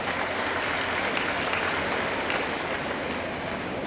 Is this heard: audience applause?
yes